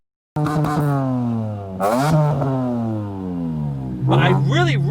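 A BMW M3 with an S54 engine and new exhaust revs hard, loud and close, with several sharp rising and falling blips over a steady raspy drone.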